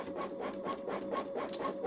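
A Babylock Solaris Vision embroidery machine stitching a design onto a towel, its needle running in a steady, fast rhythmic patter of repeated mechanical strokes at close range, with no talk.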